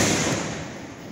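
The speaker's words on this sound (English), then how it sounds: "we have a samurai nishiki dynamite firework" A Samurai Nishiki dynamite firework shell crackles and roars as a dense, loud wash of burning stars with no distinct bang and no voices.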